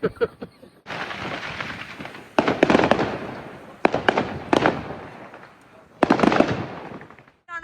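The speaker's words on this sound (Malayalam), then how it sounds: "2 സൈഡിൽ നിന്നും ഫുൾ നമുക്ക് ഇങ്ങനെ ഫയർ വർക്ക്സ് കാണാനായിട്ട്" New Year fireworks going off in an open outdoor space, a series of loud booming bursts and crackling volleys in several separate clusters, each fading before the next hits, with scattered faint voices in the background.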